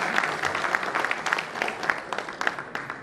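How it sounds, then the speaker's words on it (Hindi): A crowd at a ceremony honouring disabled soldiers at a paraplegic rehabilitation centre claps steadily, scattered sharp claps over a continuous patter, moderately distant and fairly soft. "तो सब लोग ताली बजाएंगे तो वो आ जाएंगे गाना बोलने."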